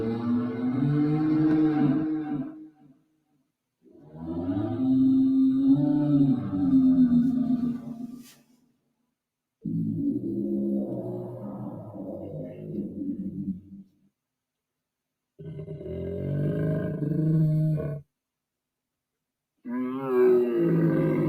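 A deep, roaring bellow imitating an apatosaurus, sounded in five long, loud bursts separated by short silences, each one rumbling low with a rough, growling texture.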